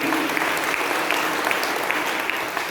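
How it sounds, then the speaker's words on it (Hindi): Steady, even clapping from an audience welcoming someone at a Brahma Kumaris spiritual talk, a continuous moderate wash of hands with no clear talk over it. "ताली बजा के अभिनंदन करिए"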